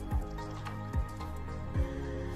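Semolina and water dough stirred in a pan, heard as three soft, wet squelching thuds spaced under a second apart, faint against a steady background hum.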